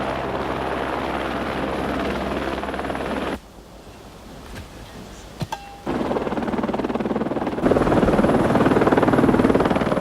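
The National Park's Gazelle helicopter roars loudly with a steady rotor and engine drone. It drops away for a couple of seconds, then returns even stronger, heard alone with no voices.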